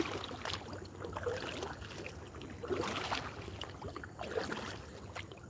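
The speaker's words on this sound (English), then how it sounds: "Now we're paddling." A kayak is paddled along shallow water, with rhythmic splashing strokes about every second and a half, nearby and moderate, over faint trickling water, with no talk.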